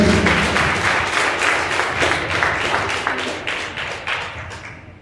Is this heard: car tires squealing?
no